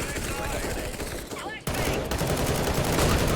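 Rapid Galil rifle spray in Counter-Strike, loud continuous gunfire that briefly dips before a sharp crack and resumes, with a voice talking over the shots.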